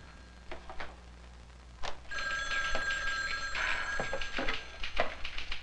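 An old office telephone bell rings in steady bursts, loud and close in a quiet room, its bright metallic tone repeating several times over a low background hum.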